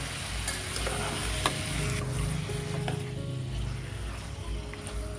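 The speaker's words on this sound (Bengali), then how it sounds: "এবার কড়াইতে তেল দিয়ে চিকেনটা ভেজে নেব।" Turmeric- and chili-coated chicken sizzles in oil in a kadai with a dense, steady frying hiss. Occasional stirring scrapes and clinks sound close by.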